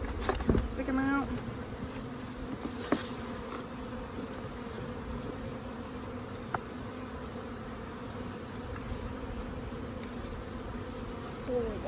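Honey bees buzz steadily around an open hive during an inspection, a dense, even drone close by that carries on throughout with a few faint clicks of handling.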